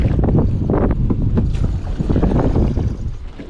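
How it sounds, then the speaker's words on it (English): Wind buffeting a microphone on a lake during a fishing trip, loud gusty rumbling and flapping, close and continuous. "Gonna be fighting the wind a lot today."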